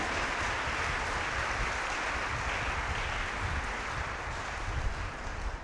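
Congregation at a Sunday Easter Mass on Mother's Day claps for mothers, a soft, even wash of applause heard from a distance, sustained throughout without voices on top.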